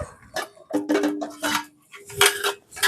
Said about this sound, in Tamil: எண்ணெய் சட்டி வச்சாச்சு.